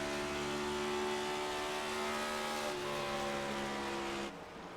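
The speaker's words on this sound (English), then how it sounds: "you can just hear that throttle rhythm, that throttle control, perfectly indicated" Race car engine in a sim racing game at Charlotte Motor Speedway, a steady loud droning whir with rhythmic throttle, holding near-constant pitch before dropping slightly near the end; no talk.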